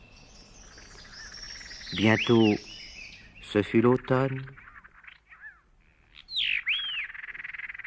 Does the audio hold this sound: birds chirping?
yes